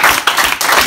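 Students at an Ikorodu school session applaud in a brief, steady wash of many hands clapping, close and fairly loud, with no talk over it.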